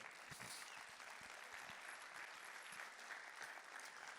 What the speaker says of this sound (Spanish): Denle un aplauso a mi rey bien fuerte.